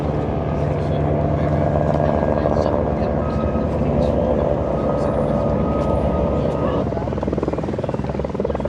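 A helicopter flies over a Sydney to Hobart yacht race, its rotor drone and engine roar steady and loud throughout, with wind and a broadcast-style mix underneath.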